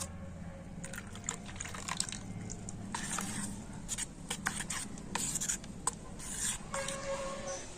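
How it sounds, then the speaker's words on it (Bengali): Water sloshing and trickling inside a mixer grinder jar as it is rinsed, with rubbing and knocking against the jar in uneven bursts, fairly close and quiet. "মিক্সি জারটা আমি একটু জল দিয়ে ধুয়ে নেব"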